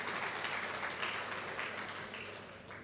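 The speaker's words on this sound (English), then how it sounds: "please give a big round of applause for the judges" Faint, steady applause from an audience honoring the judges at a national-level hackathon event, a soft continuous patter of clapping that eases slightly toward the end.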